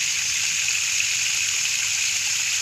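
Water pumped into a tarpaulin tilapia pond sets up a steady current, a constant close hiss and trickling rush that holds evenly throughout without any voices.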